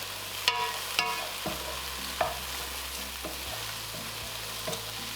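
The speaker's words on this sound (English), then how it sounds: "As you can see, these are starting to caramelize." Zucchini slices sizzle steadily in a pan with no oil as they caramelize, a constant fry hiss with a few soft clicks and scrapes from stirring, no voices.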